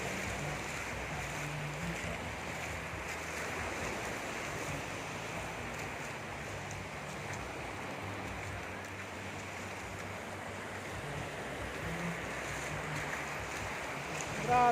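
Large sea waves surge and wash along the beach at the Binmaley baywalk in Pangasinan, a steady, broad roar of surf and wind sustained throughout with no talk.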